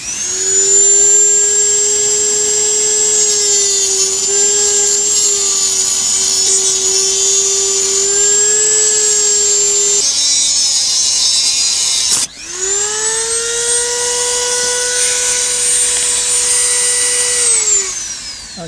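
A power tool cuts slowly back and forth across the top of a workpiece, a loud, steady whine that holds for about ten seconds, drops out briefly, then resumes with a rising pitch.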